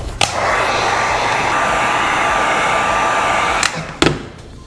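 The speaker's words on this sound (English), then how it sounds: "I'm gonna have to hit it with some heat." A heat gun blows hot air onto a helmet sticker, giving a loud, steady close-up rush of air that holds for about three and a half seconds and then cuts off with a couple of clicks.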